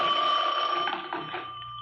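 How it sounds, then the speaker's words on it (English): A telephone rings in a radio drama, one steady bell ring of under two seconds, close and clear with no voices over it. "my phone rang."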